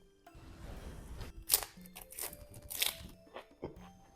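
Close, crisp crunching of a fried shrimp tail from a dragon roll sushi being bitten and chewed, a handful of sharp crackly bursts over a few seconds.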